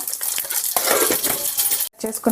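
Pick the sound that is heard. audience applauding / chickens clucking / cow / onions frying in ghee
onions frying in ghee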